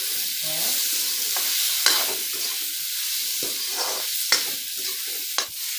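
Potatoes fried with turmeric in a pan for an egg curry, a steady close sizzle with intermittent scraping stirs and sharp clicks of a spatula against the pan.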